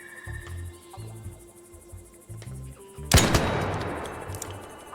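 Anvil Splitter shotgun firing in the video game Arc Raiders, one sharp, loud blast that booms and rings out over a quiet background of chirping, pulsing game ambience.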